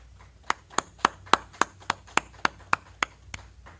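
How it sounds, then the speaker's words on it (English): A group at a street-preaching gathering claps in steady unison, about a dozen sharp, evenly spaced claps close by, with no talking. "Clap it up."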